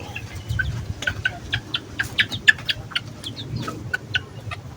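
Farm chickens cluck in short, clear bursts, several close birds calling over a low background rumble.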